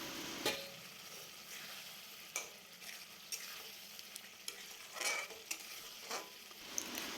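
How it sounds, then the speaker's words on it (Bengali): Eggs and potatoes frying in a pan for egg curry make a quiet, steady sizzle punctuated by scattered sharp clinks and scrapes of utensils against the pan. "তারপরে ডিম আলুটা আমি এর মধ্যে দিয়ে দেবো তো ডিমগুলো আমি সব দিয়ে দিচ্ছি"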